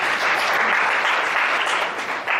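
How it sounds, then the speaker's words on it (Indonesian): Loud, dense applause from a church congregation during a sermon, sustained throughout and tapering slightly at the end. "Berikan tepuk tangan buat Tuhan Yesus."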